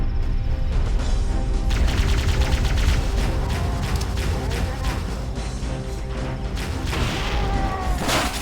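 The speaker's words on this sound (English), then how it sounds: "I threw the grenade just so I wouldn't have the shade turret bothering me" Gunfire and a grenade blast in the video game Halo: Combat Evolved, with rapid overlapping shots rattling in dense bursts and heavy booms layered over continuous loud game action.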